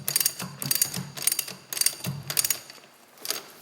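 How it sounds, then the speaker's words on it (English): A hand ratchet tightens a bolt in a workshop, giving quick bursts of crisp pawl clicking repeated in a steady back-and-forth rhythm, about six strokes, close to the microphone with short pauses between them. "let me tighten this bolt up"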